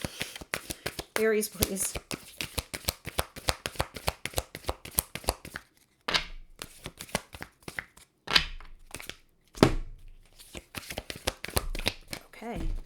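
A deck of tarot cards being shuffled, a rapid run of crisp riffling flicks and card slaps, with someone talking over parts of it at close range.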